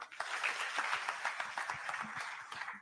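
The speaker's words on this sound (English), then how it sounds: "Let's clap for him." Audience clapping at a live business event in a conference hall, with steady, fairly distant applause that carries on at an even level throughout.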